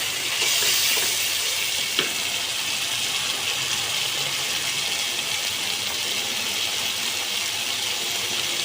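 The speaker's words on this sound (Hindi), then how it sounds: "मैंने इनको मोटे मोटे क्यूब्स की शक्ल में काट लिया था। अब इसको मैं 1 मिनट के लिए भूनूंगी।" Thick eggplant cubes fry in a hot pan, giving a continuous close hiss and sizzle with one faint knock partway through and no talking.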